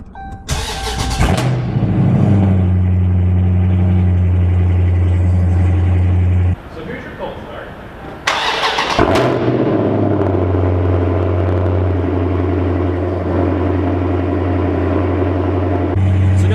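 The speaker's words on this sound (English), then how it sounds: "So here's your cold start." A 6.4L V8 Dodge Charger Scat Pack with the mufflers deleted cold-starts, cranking and firing into a loud, deep exhaust roar, settles into a rumbling idle, then revs again before dropping back to idle.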